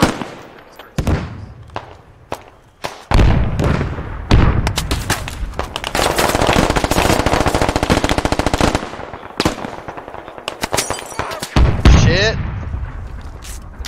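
Gunfire in the military shooter Squad: sharp single shots and bursts give way to sustained, loud machine-gun fire, with booming impacts near the end and a voice shouting briefly over it.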